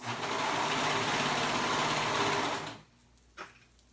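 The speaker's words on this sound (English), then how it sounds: "And I'm gonna sew all the way around, sewing that sleeve on." A sewing machine runs steadily while stitching a sleeve onto a romper, a loud continuous mechanical whir that stops abruptly near the end, followed by a brief soft clack.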